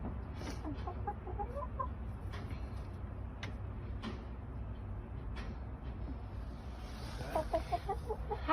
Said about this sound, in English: I was inspired by my backyard chickens